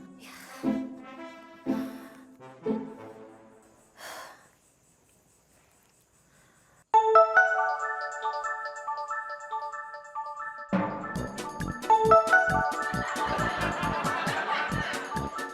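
A mobile phone ringtone plays at night indoors, a bright repeating electronic melody that cuts in loudly after a quiet pause and carries on with busier chiming layers beneath it, following some earlier laughter and chatter.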